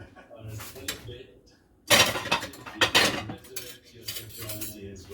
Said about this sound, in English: I'm going to get a spoon and I'm going to scoop out these gills.